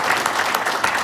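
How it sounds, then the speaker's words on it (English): Brief applause from an audience at a UK diaspora property showcase event, steady clapping at moderate level with no talk over it. "A round of applause for everyone."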